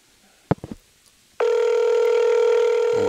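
An outgoing phone call rings through the handset: a few soft clicks, then one long, steady ringback tone that sounds loud and close for over a second before it cuts off.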